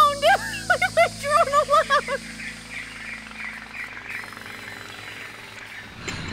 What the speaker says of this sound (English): That's my drone!